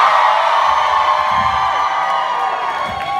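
A conference audience of aspiring directors screams and cheers loudly together, a sustained wall of shrill whoops and yells that slowly tapers off.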